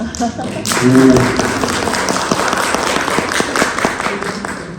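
A church congregation at a Sunday service applauds new members, many hands clapping in a dense, even burst that starts suddenly and carries on steadily, with a few voices heard at the start.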